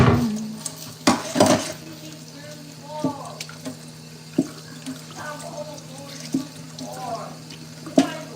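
A kitchen tap runs steadily while a knife is rinsed in the sink while cooking pork chops and fried chicken, with sharp clinks and knocks of metal against the basin over the constant water hiss, and a voice talks at times.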